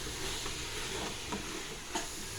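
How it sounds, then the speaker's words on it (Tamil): Coriander leaves and mint being stirred into the spiced mutton biryani base in a pot: a faint, continuous sizzle with a few soft scraping stir strokes. "அடுத்து மல்லித்தழை, புதினா சேர்த்துக்கலாங்க. நல்லா கிளறி விட்டுக்கலாம்."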